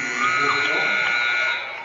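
A basketball game-ending buzzer sounds loud and sustained for nearly two seconds, a harsh electronic drone that cuts off at the end, with crowd noise beneath it.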